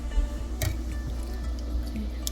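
Homemade organic hot chocolate is poured from a pot into cups, making soft close splashes and a few drips over about two seconds, with no talking.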